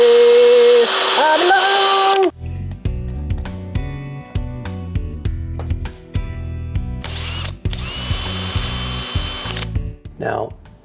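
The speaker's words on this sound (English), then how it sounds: "All right, let's drill some holes." A power drill whines in a series of short bursts, starting and stopping repeatedly at close range, with a voice speaking briefly at the start.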